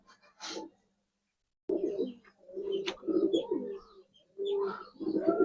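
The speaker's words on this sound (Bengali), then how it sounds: "একদম ইউনিক একটা কবুতর" Giribaz high flyer pigeons, silver and coloured birds, coo close by in throaty bursts with short pauses, the calls overlapping in the second half.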